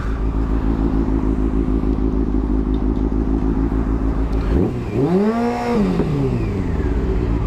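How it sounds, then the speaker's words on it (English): A motorcycle running a little lean holds a high, steady idle with a buzzing harmonic drone. Partway through, a passing car's engine sweeps up and then falls away close by. "now my idle is quite high, but that's because my bike is running a little bit lean"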